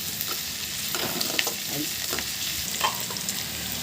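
Onions fry in a pan for a green pea curry, giving a steady close sizzle with a few scraping stirs of a spoon scattered through it. No one speaks.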